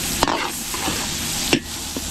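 Onions sautéing in a mix of butter and cooking oil for a seafood dish at a catering service, a steady faint sizzle with a couple of sharp stirring scrapes and clacks, no talk.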